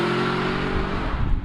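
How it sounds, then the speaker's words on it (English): Aston Martin V8 Vantage with a manual gearbox, its V8 engine revving out in a steady loud drone heard from inside the car, the pitch holding fairly even over a short stretch. "manual gearbox, revving out V8."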